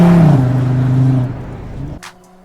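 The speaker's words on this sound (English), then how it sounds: "With its fully variable flap control, the RS Sport's exhaust system broadened the spectrum of the exhaust note" Audi RS 3 Competition engine with a flap-controlled RS sport exhaust, a loud, steady tonal drone that eases off partway through and then drops away, leaving a faint tail.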